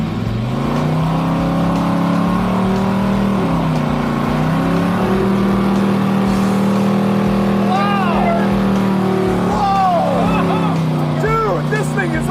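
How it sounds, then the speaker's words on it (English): Car doing a burnout, with a loud, sustained engine roar and tire screech that rises and falls in pitch throughout, while people shout and cheer excitedly over it. "Greatest burnouts in the world!"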